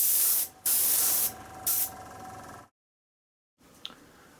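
Aerosol spray paint hisses on in three short bursts, laying the first black coat over primed Gauge 1 garden railway carriages, followed by a stretch of silence and a faint rustle.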